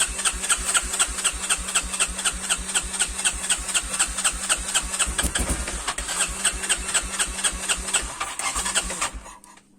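A cold quad bike engine cranks with the starter in a fast, even chugging rhythm, loud and close, churning on for about nine seconds before fading out.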